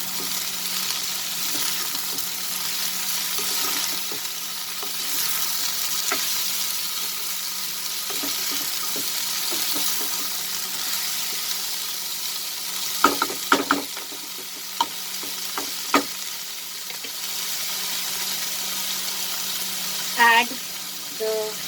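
Long beans and chicken sauté in a pan with a continuous close frying hiss, joined later by a cluster of sharp spatula scrapes and clicks against the pan.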